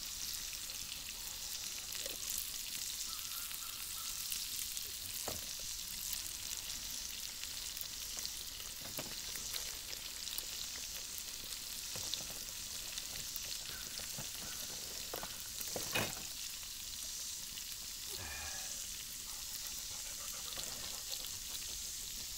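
Alfredo sauce sizzling in a cast iron pan, a steady bright hiss and crackle lasting throughout, with occasional scrapes and taps of a utensil stirring, close and even, no talk.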